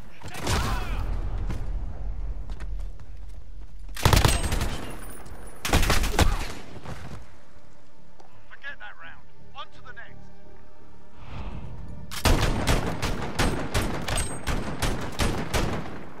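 Gunfire in Call of Duty Modern Warfare 2v2 alpha: several loud bursts of automatic fire in separate volleys, with quieter mechanical clicks and gear sounds between them, close up and with no talk.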